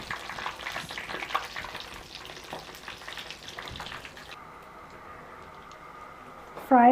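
Vegetable kababs fry in a pan with a busy crackling sizzle that thins out to a softer hiss toward the end, and a brief tonal sound cuts in at the very end.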